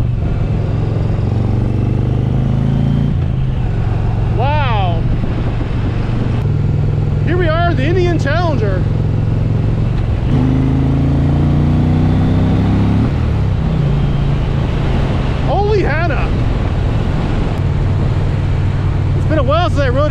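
Indian Challenger V-twin motorcycle on a test ride, a steady low engine drone running throughout with gear shifts and rising revs, wind rush over it, and people talking at several points.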